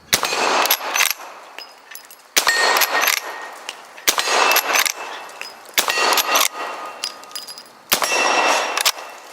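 Rapid shots from an 1860 Henry lever-action rifle ringing off a steel plate target, about five sharp clangs spaced roughly every two seconds, each leaving a bright metallic ring that decays before the next.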